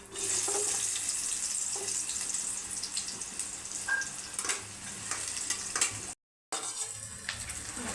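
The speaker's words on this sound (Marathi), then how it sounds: "आता ह्याच्यामध्ये मी चिरलेले कांदे टाकत आहे." Chopped onions frying in ghee in a kadhai, a quiet steady sizzle broken by occasional spoon clinks and stirring noises, with a brief full dropout near the end, no voices.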